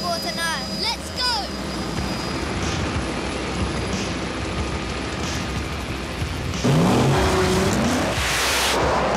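Drag racing cars at Santa Pod Raceway in Northamptonshire roar loudly and steadily, swelling into a harsher blast near the end, with talk over the top.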